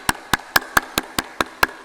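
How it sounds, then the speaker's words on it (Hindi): Loud, sharp hand claps in a fast, steady rhythm, about nine evenly spaced strikes close by, clapped firmly as a health exercise, with no talking. "जरा अपने लिए ताली बजा लो"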